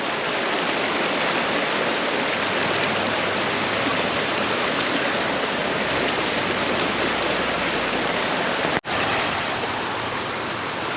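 Floodwater after a hard April rainstorm rushes hard down a creek by Silver Creek Presbyterian Church, a loud, steady broadband roar with no talk that briefly cuts out near the end.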